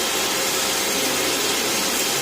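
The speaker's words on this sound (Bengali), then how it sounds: "ভালো করে লাল লাল করে ভেজে নেব।" Potatoes fry in hot oil with white and black cumin seeds, a dense, steady sizzle and hiss filling the sound close up and without pause, with no talking.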